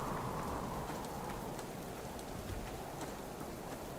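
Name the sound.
rain falling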